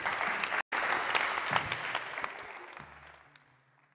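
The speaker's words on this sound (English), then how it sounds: "Please give a big applause for Lucas Paes de Melo from Amparo." Audience applause at a startup demo night, dense clapping from a crowd that swells briefly, then tapers off and fades to quiet near the end.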